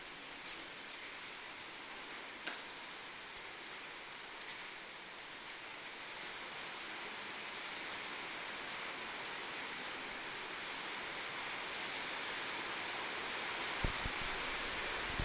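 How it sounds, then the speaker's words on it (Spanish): Hail falls steadily outside, a dense, even hiss that holds at a constant level throughout, with a couple of faint knocks. "Es granizo, ¿no?"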